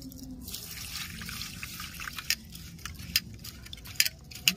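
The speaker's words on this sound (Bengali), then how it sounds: "চালটা এবার ভালো করে ধুয়ে 10 মিনিট ভিজিয়ে রাখবো।" Gobindobhog rice being washed in water by hand: a steady wet swishing and trickling, close by, with small clinks and drips scattered through and no speech.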